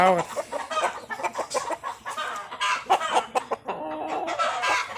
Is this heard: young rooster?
yes